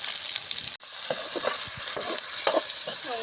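Sautéed onions and freshly added tomatoes sizzle in a pan for a chicken dish, a close, steady frying hiss with a brief drop and scraping stirs of a spoon across the pan.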